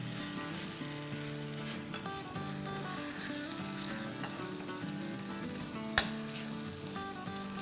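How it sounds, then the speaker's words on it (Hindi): Half a pound of minced meat keema sizzles steadily in a pan, a loud continuous frying hiss with one sharp clack from a utensil, close up and with no talking. "इसको भून लेंगे हम।"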